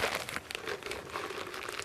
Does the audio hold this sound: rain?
no